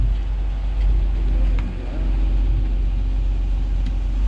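Old free truck running and starting to move, a steady low engine rumble close by with a brief dip partway, no speech over it.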